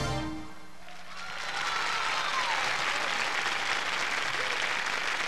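Television studio audience in Chile in 1987 bursts into loud, sustained applause after a live song, a dense roar of clapping that swells after the music's end and holds steady.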